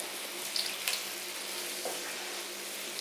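Hot water pours and trickles into a simmering egg masala curry with a soft bubbling hiss and a few faint clinks, quiet and close.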